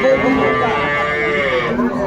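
A cow at a cattle market in Aftabganj, Dinajpur, moos loudly and at length nearby, one long drawn-out call filling the moment.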